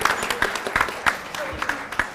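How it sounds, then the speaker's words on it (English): Applause from the audience at a ceremony honouring Padma award recipients, a moderately loud patter of clapping with sharper individual claps standing out, heard alongside some talking. "So please give one big applause to all of them."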